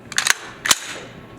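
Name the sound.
firearm discharging and cycling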